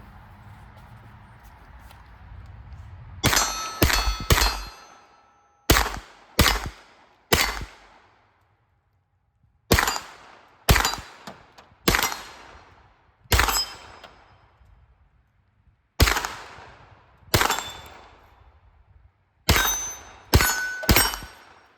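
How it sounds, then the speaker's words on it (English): Gunshots from a Beretta CX4 Storm 9mm carbine striking steel targets: about a dozen sharp, loud reports with ringing metallic clangs, fired in quick pairs and short bursts separated by brief pauses, with no talking. "it's a 9mm carbine, and it shoots pretty good, as you can see."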